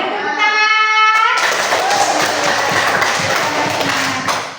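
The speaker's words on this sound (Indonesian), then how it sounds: "Beri tepuk tangan." A classroom breaks into dense, steady applause for a pupil, filling the room for several seconds after a short spoken line and fading slightly at the end.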